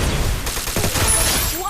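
MAC10 gunfire in the Free Fire video game, a dense rapid burst of automatic shots, loud and continuous, with a rising electronic effect near the end.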